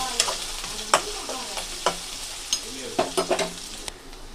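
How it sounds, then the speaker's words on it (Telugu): Onions and green chilies frying in a pan with tempering spices, crackling and sizzling steadily while a utensil stirs with sharp intermittent clicks and scrapes, close up, with no talking. "ఆనియన్స్ ఇంకా పచ్చిమిర్చిని అయితే యాడ్ చేసుకుంటున్నాను. వీటిని కూడా మంచిగా ఫ్రై అవ్వనిద్దాం."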